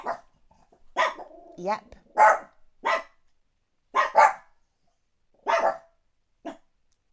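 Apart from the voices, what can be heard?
Chihuahua and Chihuahua-dachshund cross dogs barking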